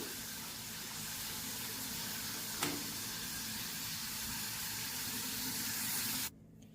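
Potato chips deep fry in hot oil, a steady, fairly quiet broadband hiss with one brief click partway through, cutting off abruptly near the end.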